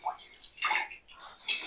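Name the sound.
water running while rinsing out homemade hair dye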